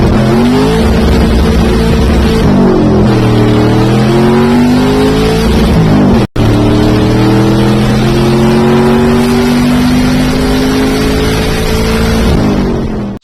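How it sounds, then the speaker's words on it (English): Chevy Blazer making a drag strip pass, its engine climbing loudly through the revs, dropping briefly at each slow shift and pulling up again over several gears, close and dominant with no voices. "I went out and did another draggy run tonight to kind of see where the Blazer sits."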